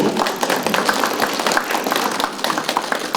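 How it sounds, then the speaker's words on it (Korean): Audience at a regional seminar on local decline in Daegu and Gyeongbuk breaking into applause; dense, fairly close clapping from many hands, steady and lively throughout the short stretch. "박수 한번 주시고 박수."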